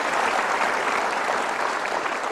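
A studio audience applauds on the Indonesian TV talk show Mario Teguh Golden Ways, a dense, even wash of clapping that holds at full strength throughout.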